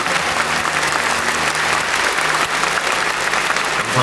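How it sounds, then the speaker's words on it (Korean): Warm, sustained applause from the audience at a pastor ordination ceremony, dense continuous clapping filling the hall at steady loudness with no talk over it. "정말 뜨거운 박수로 또 축하해 주시고 응원해 주시기 바랍니다"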